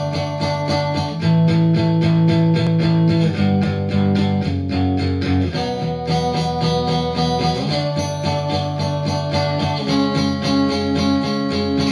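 Electric guitar playing a pre-chorus with sustained distorted power chords, loud and dense, shifting chords every couple of seconds, alone with no talk.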